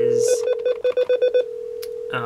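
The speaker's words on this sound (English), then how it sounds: "you hear a different ring back. It's the priority ring back" A priority ringback tone on a multi-level precedence and preemption telephone line, pulsing in a rapid series of short beeps, then holding steady before another tone sounds at the end.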